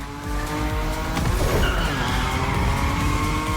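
Nissan Nismo drifting at high speed in the racing game The Crew Motorfest, with a steady engine roar under continuous, loud tire squeal as the car slides.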